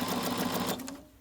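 A sewing machine stitches elastic onto a homemade fabric face mask, whirring in a brief quiet burst before stopping, followed by a faint click.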